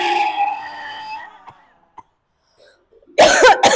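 Harsh, forceful coughing during a yoga throat exercise, starting with a sustained strained throaty sound that fades out, a few faint clicks in the quiet gap, then a loud burst of coughing up close.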